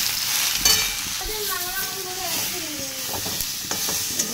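Cumin, turmeric and garlic paste sizzle in hot oil in a pan, a steady close hiss broken by scraping stirs; a faint tonal whine glides through the middle, with no speech.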